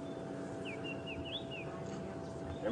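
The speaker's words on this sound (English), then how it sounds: "Lovely sounds here from the bird life around here." Birds singing on a sunrise safari drive along a riverbed, with a clear whistled song phrase rising and falling over steady outdoor ambience and low engine hum, moderately distant.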